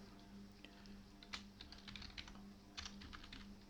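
Typing on a computer keyboard in Notepad: quiet, irregular clusters of soft key clicks over a steady low electrical hum, with no talking.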